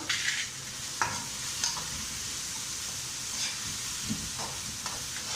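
Salt and whole spices being stirred in a frying pan, a steady soft sizzle with light scraping taps of the spoon at irregular intervals, close and fairly quiet.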